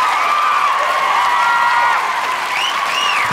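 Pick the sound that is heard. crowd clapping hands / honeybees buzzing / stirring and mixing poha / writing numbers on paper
crowd clapping hands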